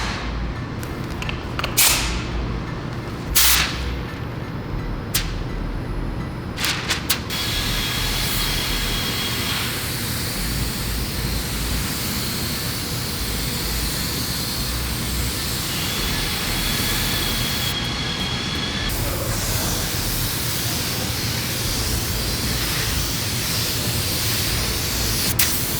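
Steady, loud spray-gun hiss as coats of paint go onto a Mercedes during a blending job, running almost unbroken with a few sharp clicks and pauses near the start.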